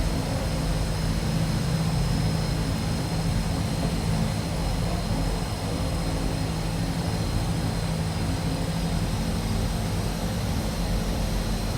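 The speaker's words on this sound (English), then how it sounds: "taxiing that water aircraft" A Twin Otter seaplane taxis on the water in a flight simulator game, its engines giving a steady, loud droning hum with a constant tonal whine that runs unbroken throughout.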